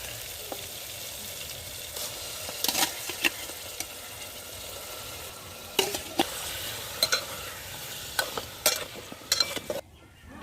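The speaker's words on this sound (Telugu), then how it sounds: "కడిగి పెట్టుకున్న రొయ్యలు అయితే ఇందులో వేసుకుంటుందా." Washed prawns hit a hot pan with wilted tomato and onion for a mango prawn curry, giving a steady close sizzle broken by scraping, clattering stirs.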